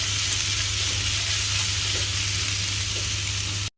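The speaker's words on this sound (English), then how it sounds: "add in about 250 grams of pork loin strip. You can use pork belly, and do a light saute till it's lightly brown" Pork loin strips sauté in a hot pan as a light browning begins, giving a steady, close, continuous sizzle with faint stirring noises and no talking, cutting off abruptly at the end.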